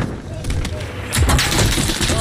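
Bursts of gunfire in a shooter video game, a quieter stretch of shots followed by a louder, denser volley near the end, short and close.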